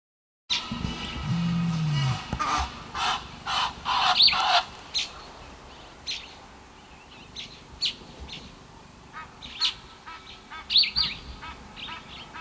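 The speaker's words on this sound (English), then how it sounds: "Abundant bird life." Birds call and chirp at Sani Pass, several overlapping calls repeating across the scene at moderate distance, mixed with duck-like and farm animal sounds over steady background noise.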